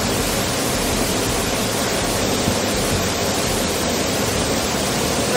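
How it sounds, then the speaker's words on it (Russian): The large three-tier Datanla waterfall near Dalat, Vietnam, roars in a loud, dense, unbroken rush of falling water with no voices over it. "Расположился он вокруг водопада Датанла. Это достаточно большой трехуровневый водопад"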